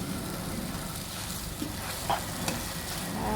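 Glass noodles being stir-fried with green onion and celery in a pan over a switched-off gas stove, giving a steady close sizzle with a few soft scraping stir strokes and no voices.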